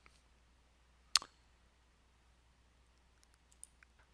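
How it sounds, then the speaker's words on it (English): A single sharp computer mouse click stands out near the start, followed by a few fainter light clicks later, close and isolated against a quiet background with no talking. "So I'm going to click on that one."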